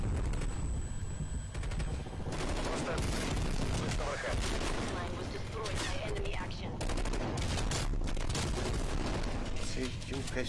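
Rapid pistol shots from dual pistols in a first-person shooter game, dense bursts of firing clustered over the whole stretch alongside other game combat sounds.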